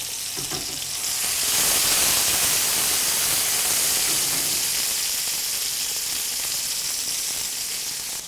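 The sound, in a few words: cherry tomatoes sizzling in a frying pan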